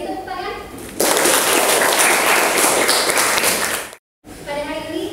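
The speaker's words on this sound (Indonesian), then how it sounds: "Beri tepuk tangan." Students in a high school maths class applaud a classmate's answer: a sudden loud burst of clapping cuts in after brief talk, holds steady for about three seconds, drops out, then talk resumes.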